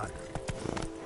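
Roach the horse in Witcher 3 sends out a quick burst of hoof clip-clops with a brief whinny, close and brisk over a steady game background.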